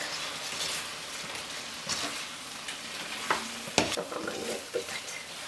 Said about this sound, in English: Just add them here, mix well, start mixing.